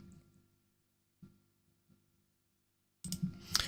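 Computer mouse clicks, two faint isolated clicks in near silence followed by a louder cluster of clicks and handling noise near the end.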